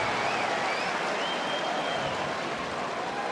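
Tennis crowd at the Australian Open final applauding Dominic Thiem against Novak Djokovic, a faint, steady wash of distant clapping with no voices.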